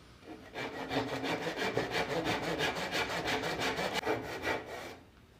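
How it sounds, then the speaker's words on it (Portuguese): A handsaw rasps through wood, cutting a notch to one-centimetre depth, in quick, even back-and-forth strokes, close by, stopping near the end with no speech. "eu vou aprofundar daqui com o serrote até a marca de 1 centímetro"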